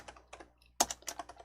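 A computer keyboard is tapped in a quick burst while a file name is entered: a few light clicks, a short pause, then a firmer cluster of keystrokes nearby, with no one talking.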